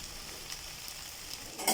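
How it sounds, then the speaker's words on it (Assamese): Spice paste fries in a pan over raised heat, giving a steady close sizzle with a brief louder hiss of stirring at the end. "বঢ়াই দি এতিয়া মছলাটো পূৰা ভাজি দিম"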